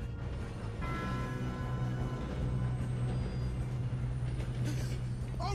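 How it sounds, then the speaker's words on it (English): Train in the video game Red Dead Redemption 2, a steady nearby rumble of rolling wheels and clanking rail cars with a low engine hum, continuous throughout. "Outrunning a train."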